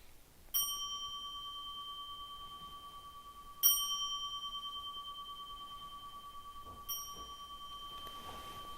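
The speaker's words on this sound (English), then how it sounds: "3 bells." A meditation bell is struck three times, each a clear ringing tone that sustains and slowly decays before the next strike, evenly spaced in a quiet room.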